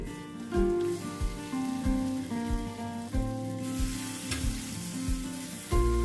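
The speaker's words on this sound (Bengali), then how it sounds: "পেঁয়াজ ছোটো ছোটো করে কুচো করে তার মধ্যে দিয়ে একটু ভেজে নিতে হবে" Finely chopped onions frying on low heat in a pan with whole spices, giving a continuous close sizzle with repeated stirring scrapes and knocks throughout.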